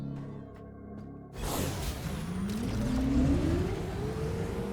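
A motorbike engine in the video game Metroid Prime 4 starts up and revs, its pitch rising steadily into a loud, sustained whine with no talk over it.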